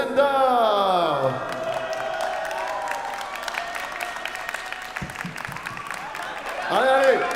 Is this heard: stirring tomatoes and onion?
no